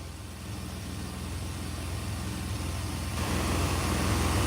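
A 1986 Chevrolet Silverado truck engine runs at a steady idle, a constant close-up rumble and hum with a loud fuel pump droning underneath, growing a little louder near the end.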